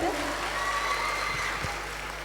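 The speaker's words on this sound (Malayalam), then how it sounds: "ഒരു നല്ല കൈയ്യടി തരുമോ എല്ലാവരും ചേർന്നിട്ട്?" A packed audience at a school inauguration ceremony claps together in a sustained, dense burst that stays fairly even and slowly eases off.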